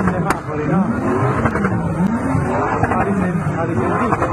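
A Lamborghini and other luxury cars speed through the streets of central Naples, their engines revving and surging close by in a continuous roar while a person talks over them.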